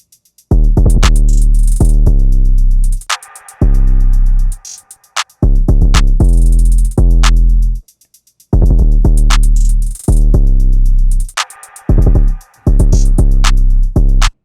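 Deep 808 bass notes gliding and sustaining together with drums in a beat built around guitar and piano, booming and loud, with recurring gaps and hi-hat ticks, no voices.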